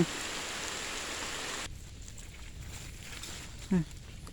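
Heavy rain pours down in a dense, loud hiss that abruptly drops to a softer, steady patter on surfaces, with a brief vocal sound near the end.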